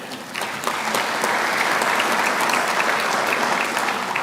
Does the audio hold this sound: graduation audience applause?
yes